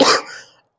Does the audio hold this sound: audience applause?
no